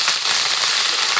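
Onion and garlic paste frying in hot oil for a meat curry, a close, steady sizzle and crackle throughout the short moment.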